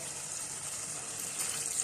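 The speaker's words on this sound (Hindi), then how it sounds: "तो थोड़ा सा पानी ऐड करेंगे" Water poured into a pot of Peshawari mutton karahi with tomatoes, a steady splashing pour held for a couple of seconds, fairly quiet and close, swelling slightly near the end.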